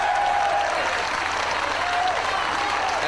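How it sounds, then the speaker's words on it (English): Fans at a wrestling show applaud in a steady, dense wash of clapping that runs throughout, moderately loud, with a faint tonal whine over it. "The fans, you can hear the applause."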